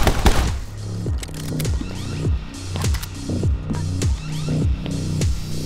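Rapid pistol gunfire in a video game, a string of sharp, loud shots repeating every half second or so with short echoing tails over a steady background rumble.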